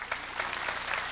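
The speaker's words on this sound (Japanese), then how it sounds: "で今の拍手、ただの拍手じゃないよね。" Concert audience applause at a summer evening folk concert, a brief burst of steady, dense clapping from a crowd that fills the whole moment.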